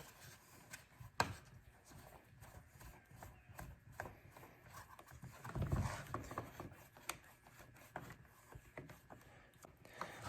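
An 8mm socket wrench snugging carburetor nuts, producing faint intermittent ratcheting clicks and small metallic knocks close up, quiet throughout with a brief louder rustle midway.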